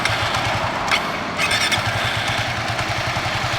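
A Kawasaki KLX 250 motorcycle with a bored-up engine, 34 mm throttle body and new injector starts and settles into a steady, loud, close idle with an even pulsing throb.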